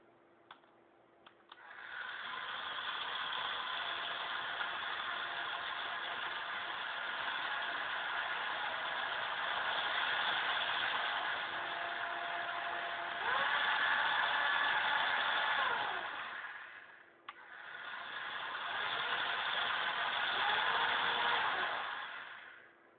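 Small DC motors driven through an Arduino-controlled dual H-bridge whir steadily for about fifteen seconds, with the tone shifting as the speed changes. They cut out briefly, then spin up again, close and moderately loud, with no talking.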